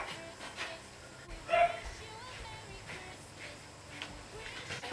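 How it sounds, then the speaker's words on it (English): Faint yips and a whimper from a neighbour's puppy next door, heard distantly through a kitchen during pastry making, with one short louder burst amid low background sounds and a voice. "That's next door's puppy, if you can hear that noise."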